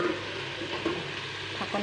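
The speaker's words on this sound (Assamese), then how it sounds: "সেই পিঁয়াজকণ ইয়াতে দি দিছোঁ আৰু ভাজিছোঁ।" Onions frying in a pan for a home-style fish curry with potatoes, tomatoes and ridge gourd: a close, constant sizzle with light stirring scrapes near the end.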